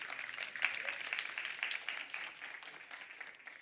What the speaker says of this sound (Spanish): ¿quieren darle un aplauso al hermano que va a participar?